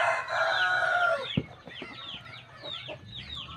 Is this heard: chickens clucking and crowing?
yes